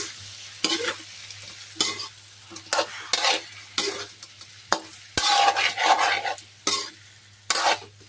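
Shrimp cooking in a pan, bursts of stirring and scraping against the pan over a low, steady sizzle, repeated in irregular strokes close to the microphone, with no speech.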